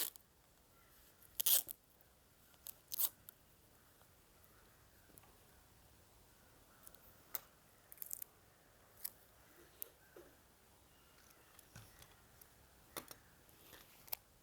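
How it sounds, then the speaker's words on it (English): Packing tape pulled and pressed to seal the bottom of a handmade newspaper carry bag, heard as scattered sharp crackles and tearing snaps spread across a quiet stretch, some close and loud, others faint. "take the tape 3/4 of an inch and then seal the bottom"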